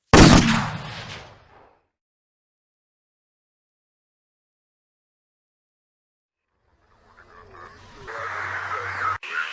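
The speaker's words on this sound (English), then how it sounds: "this video contains the sound effect of a gunshot" A gunshot sound effect: one sharp, loud blast at the start with a decaying tail, followed by several seconds of silence and then a different, rougher noise near the end.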